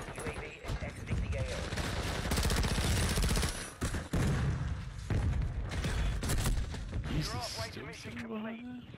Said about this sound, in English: I like how your character casually reloads in the middle of a fucking major gunfight